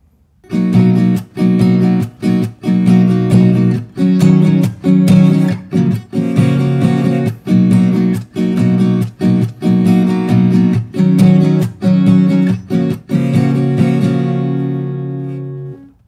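Guitar strums the chord progression of a song in rhythmic chords, each strum sharp and ringing, repeating steadily and letting the final chord ring out alone.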